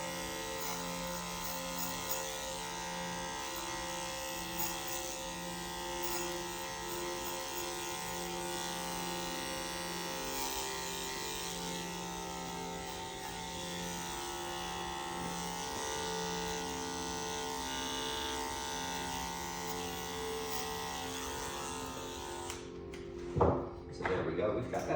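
Electric hair clippers hum steadily and close while cutting a basic men's haircut with a 0A guard and clipper comb, running continuously before stopping near the end.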